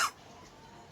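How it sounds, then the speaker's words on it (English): Two sharp, close coughs, one at the very start and one at the end, separated by near silence. "I have a cough in my"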